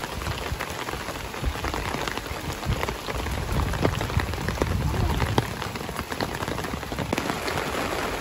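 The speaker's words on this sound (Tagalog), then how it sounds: "Inabot kami ng ulan. Hindi nga lang basta ulan, parang bagyo na rin yung inabot namin." Heavy rain pours steadily during car camping at a lake, a dense continuous hiss of drops drumming on surfaces with no talk.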